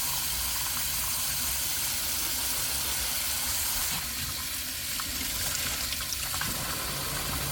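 Tap water runs steadily from a faucet while it waits to warm up, making a constant, fairly faint hiss and splash with no voices.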